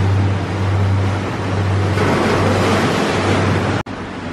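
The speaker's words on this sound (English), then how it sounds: "You can hear that engine coming from so far away." An LA County Lifeguards boat heads up the coast off Malibu, its steady low engine drone carrying over loud, continuous ocean surf, with a brief dropout near the end.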